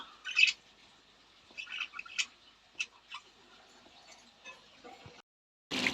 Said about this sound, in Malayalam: ഇതുങ്ങൾ എപ്പോഴും ഇങ്ങനെ ചിലച്ചുകൊണ്ടിരിക്കും കേട്ടോ.